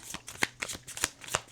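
A deck of cards is shuffled briskly, the riffles coming as several quick crisp bursts, close and fairly loud with no voices.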